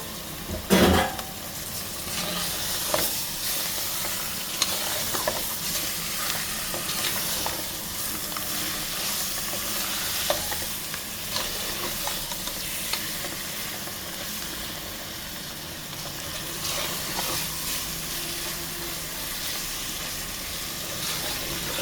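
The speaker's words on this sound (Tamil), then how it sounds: "நம்ம க்ளீன் பண்ணி வச்ச சிக்கனை இதை எடுத்து போட்டு நல்லா வதங்க விடணும்" Cleaned chicken pieces sauté in a hot pan for white chicken gravy, giving a steady, close sizzle and hiss with scraping stir strokes and a sharp clatter near the start; no voices.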